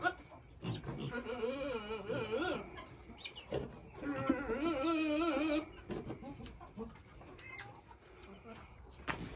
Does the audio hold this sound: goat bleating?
yes